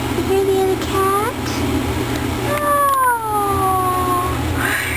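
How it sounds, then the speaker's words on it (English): A cat meows close by, a short call followed by a longer drawn-out falling meow, over a steady low hum. "Hear the other cat? You hear the other cat?"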